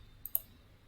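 Computer mouse clicking twice in quick succession, small faint ticks against a quiet background.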